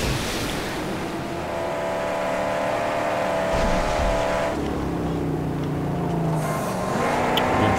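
Vehicle engine roaring steadily while driving in the Mad Max video game, a loud continuous drone with shifting pitch and rumbling terrain noise throughout, no talking over it.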